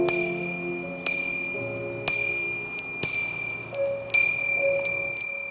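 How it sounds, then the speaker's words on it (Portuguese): Small bells ring in a series of sharp, bright strikes, about one each second, each leaving a long shimmering tone that rings on under the next, with no voices. "porque o sino está tocando"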